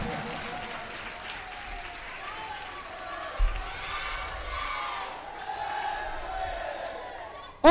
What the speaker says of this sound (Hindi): और लगा सको जितने नारे लगा लो।